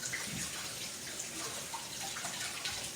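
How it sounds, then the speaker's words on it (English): Water runs steadily from a tap as hands are washed, a close, even splashing hiss with faint drips, no talk. "I'm gonna wash my hands."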